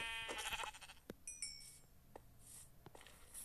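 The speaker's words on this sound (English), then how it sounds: "Get out of my sight, you sheep." Sheep bleating in a Minecraft game, a short wavering bleat at the start followed by scattered soft clicks and game effects, faint and close, without talk.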